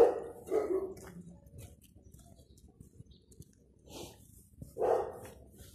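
A shepherd dog in a residential private-house neighborhood barks from a distance, a few scattered barks at the start and again near the end, with faint birdsong between.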